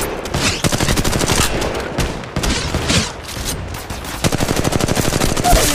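Rapid bursts of gunfire from a mobile battle royale shooter, Apex Legends Mobile, crackling loud and close in repeated volleys with short gaps between them.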